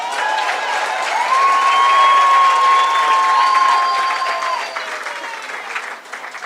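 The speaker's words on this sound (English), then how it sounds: "Let's give her a round of applause." Graduation audience applause at a Gauteng ceremony: a sustained, loud wash of many hands clapping with some cheering and whoops, holding steady and then thinning slightly toward the end.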